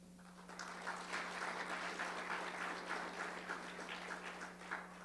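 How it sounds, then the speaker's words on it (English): Applause from an audience at a USDA roundtable meeting, a steady wash of clapping lasting several seconds, moderately loud with a constant low hum underneath. "Let's have a big round of applause for Michelle."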